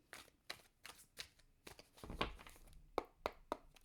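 Tarot cards being shuffled by hand, a quiet series of crisp riffling flicks and soft papery slaps in an irregular rhythm, close and faint.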